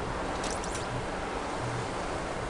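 Rushing water in the Jedi Knight video game, a steady loud wash of broadband noise like surf or a strong current, continuous and close with no talking over it.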